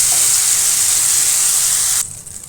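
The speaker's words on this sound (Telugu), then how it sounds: "టమాటా అనేది బాగా వేగుతుంది" Tomatoes fry in a pan with a loud, steady bright sizzle and hiss that cuts sharply to a quieter crackle near the end, no voices.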